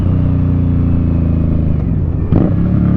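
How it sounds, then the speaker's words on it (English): A 2018 Indian Scout Sixty motorcycle engine runs loud and close with a deep, steady throbbing rumble, and a brief change in tone near the end suggests a gear shift. "This is a bike that you upshift just to downshift so you can hear the sound."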